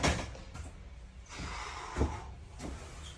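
A door in a 2004 Ford Thunderbird being opened, with a few soft thumps and a muffled latch click, quiet and close.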